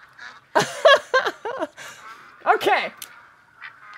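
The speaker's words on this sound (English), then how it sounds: "Let me just let these ducks leave." Ducks quack and honk in a hunting video game, a run of loud nasal calls followed by another cluster, close and clear, with a voice speaking briefly.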